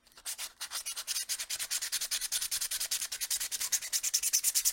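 Finer-grit sandpaper rubs back and forth in quick, even strokes, a close, rhythmic scratchy rasp that continues steadily with no talking.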